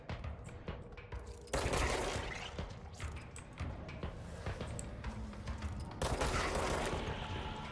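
Enemy gunfire in the video game Control, a dense continuous fusillade of rapid shots and thumps with louder bursts, busy and sustained throughout.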